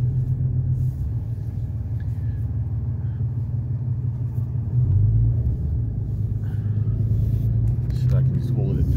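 Steady low diesel rumble from a 2021 Ram 3500 HO pickup with about 300 miles on it, idling close by with a slight rise in the middle.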